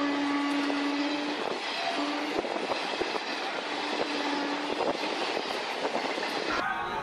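A passenger train rolls along with a continuous rumble and repeated rhythmic clicks from the wheels and carriages, heard close from inside and steady throughout.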